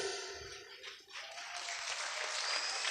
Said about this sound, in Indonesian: Ini kenapa jadi tepuk tangan?